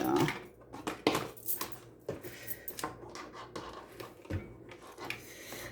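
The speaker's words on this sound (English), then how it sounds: "Trying to move the base here for the blender. Move the blender out the way." Blender base and its cord shifted across a kitchen counter, giving close scraping, rubbing and knocking bumps in uneven bursts, quiet with no talk.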